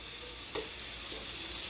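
Buttered garlic shrimp fry in a pan with a steady, close sizzling hiss, broken once by a short scrape of stirring.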